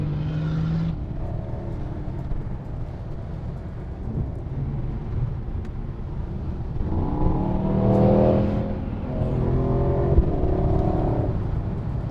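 A car approaches and passes on a desert road, its engine rumble and tyre roar swelling to a peak mid-way and then fading as it moves off.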